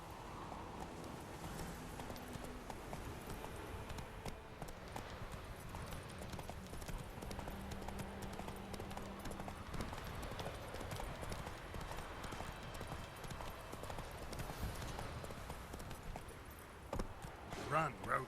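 Roach, Geralt's horse in The Witcher 3, gallops in a steady rapid clip-clop of hooves that runs throughout, with game music and ambience underneath.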